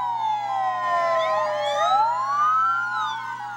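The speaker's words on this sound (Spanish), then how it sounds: "Las sirenas de varios carros especializados en su desfile por las avenidas de la ciudad avisaron al pueblo" Sirens on several specialized vehicles, fire trucks among them, wail steadily as they parade along city avenues in the municipality of Moa. Their overlapping rising and falling tones sound loud and continuous, with no talking.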